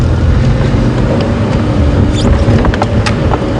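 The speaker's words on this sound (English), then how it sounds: "put the car into low range so the engine makes a lot less noise and we can really just inch up there" A safari game-drive vehicle idles along in low range, a steady low engine rumble close by and constant for the whole stretch, with a few faint high bird chirps in the background.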